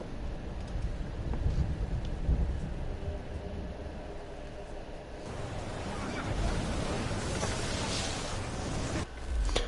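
A thunderstorm at sea rages in Assassin's Creed III, a continuous roar of wind and crashing water around a sailing ship that swells in the second half, with a faint voice buried in the noise.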